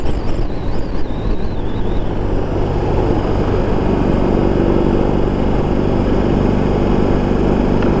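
A BMW R18 cruiser motorcycle engine drones while riding, its low steady rumble mixed with heavy wind rush that stays constant and loud throughout.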